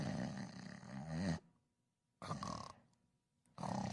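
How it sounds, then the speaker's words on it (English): Two loud, rumbling snores separated by quiet gaps, a growly cartoonish snort with a third snore starting at the end. "That sounds like a fire truck snoring."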